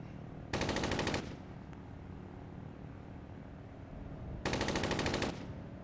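Gunfire in Arma 3 comes as two sustained bursts of rapid automatic fire, each lasting under a second, loud and close over a constant low engine drone; no one speaks.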